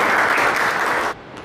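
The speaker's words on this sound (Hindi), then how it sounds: "तो एक बार कृपया तालियां हो जाए इस बहुत ही अच्छी खूबसूरत प्रेजेंटेशन के" An audience at a Mother's Day celebration applauds a presentation, with loud, dense clapping that holds steady and then drops off abruptly near the end.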